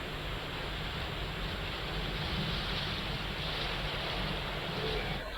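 The flooded Bhima (Chandrabhaga) river at Pandharpur rushes after heavy rain and dam releases, a constant broad roar of water that stays loud and unbroken throughout.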